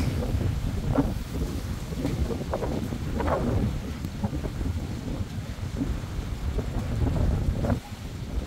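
Strong, steady typhoon wind roars and gusts against the microphone, a rough whooshing that barely lets up, with some rumbling bursts.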